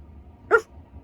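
A single short, sharp bark from a dog indoors, loud and close, standing alone against a quiet background with no talking.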